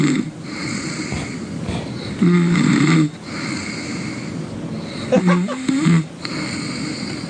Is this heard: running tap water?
no